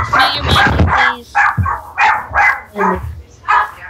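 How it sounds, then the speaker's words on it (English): Several dogs bark in a rapid, irregular series of loud, close, sharp woofs, about eight barks over a few seconds. "You kick your dogs in the throat, Evan, if you don't shut them up."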